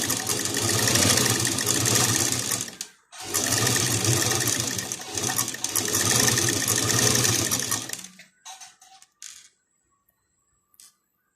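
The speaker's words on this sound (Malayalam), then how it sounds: "ഒരു 4 ഇഞ്ച് വിട്ടിട്ടാണ് ഞാൻ ഇവിടെ സ്റ്റിച്ച് ചെയ്യുന്നത്." Sewing machine stitching a fabric table top mat at home, two steady runs of rapid mechanical whirring separated by a brief pause, then stopping with a few light clicks and near silence.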